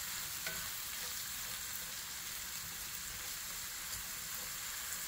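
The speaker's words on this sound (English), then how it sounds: "Next, add a half of sweet onion sliced. Sauté for 6 to 8 minutes, stirring occasionally." Sliced mushrooms and half a sweet onion sauté in a pan, giving a steady, close sizzle with faint stirring scrapes throughout and no voices.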